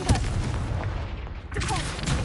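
A Confringo blasting spell explodes in Hogwarts Legacy, a thick, rumbling boom that keeps roaring throughout, with a brief dip before it swells again.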